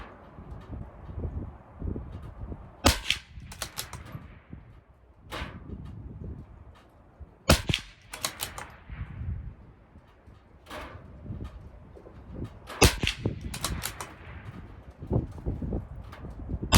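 Rimfire shots from a CZ 457 rifle firing SK High Velocity Match ammunition at a 50-yard range, a handful of sharp, separated cracks spaced seconds apart over steady outdoor wind and background rustle.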